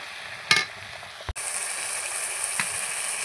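Spice paste frying in a pan with a splash of water: a short metallic clatter comes first, then a sudden loud, steady hiss of sizzling that carries on evenly, with no one speaking.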